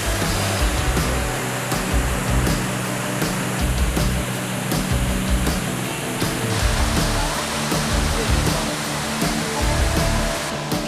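The Dudingga waterfall in Gorontalo, a dense, steady roar of falling water, loud and close and unbroken from start to finish, with no voices over it.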